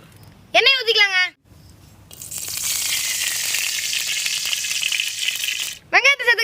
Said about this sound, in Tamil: மூங்கிலுக்குள்ள வைக்கிற மசாலாவை ரெடி பண்ணி போங்க. எண்ணெய் ஊற்றிக்கலாங்க.